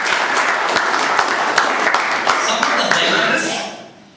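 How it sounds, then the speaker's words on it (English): An audience at a Toastmasters meeting claps in a sustained round of applause for several seconds, fairly close and steady, before it tapers off. "A big round of applause."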